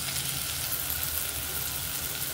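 Tomatoes with chili powder cook in a pan for mullangi sambar, a soft continuous sizzle and bubbling heard close and steady, with no one speaking.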